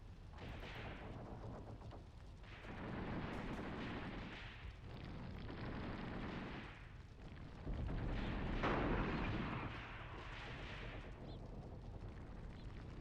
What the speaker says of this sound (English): Lots of small arms fire coming this way